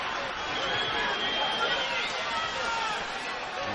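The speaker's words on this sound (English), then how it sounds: "Crowd on their feet. No one's taken a seat just yet." A packed boxing arena crowd stands before a middleweight title fight, a dense, steady roar of cheering and chatter that fills the space without pause from start to finish.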